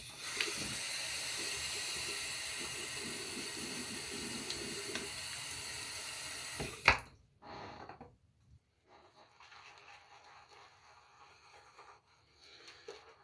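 A bathroom tap runs steadily as someone washes up at the sink before lathering for a second shaving pass; a close, even rush of water lasts about seven seconds, then cuts off, leaving faint handling sounds.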